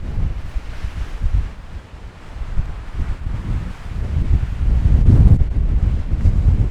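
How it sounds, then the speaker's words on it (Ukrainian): Gusty mountain wind at Lake Tahoe buffets the microphone with low rumbling surges, rising and falling and strongest toward the end, with no voices. "Вітер дме, вітер дме, він обсушив мені губи"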